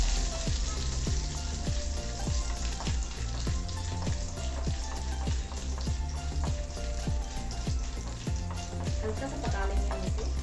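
Dry coconut fries in a pan for a curry, giving a continuous hissing sizzle with light crackles, heard steadily throughout beneath a rhythmic musical backing.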